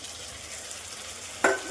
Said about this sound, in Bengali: এবার মশলাটা ভালো করে কষাতে হবে।